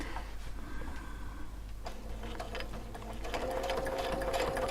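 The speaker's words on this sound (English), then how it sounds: "We're going to sew from one reference line to the next reference line." A sewing machine stitches quilt fabric guided along a template, its needle motor running in a steady close rapid whir that speeds up and grows louder toward the end, with no voices.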